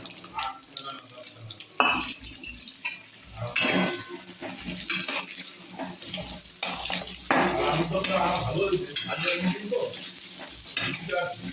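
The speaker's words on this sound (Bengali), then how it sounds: "আলু ভাজা হয়ে গেছে" Potatoes frying in oil in a pan for matar paneer, a busy sizzle with stirring clinks and scrapes throughout, close and moderately loud, with irregular bursts as the pieces are moved.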